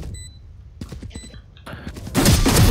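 Gunfire from Valorant erupts in a loud, dense burst at the end, following a short stretch of quieter game effects and brief talk.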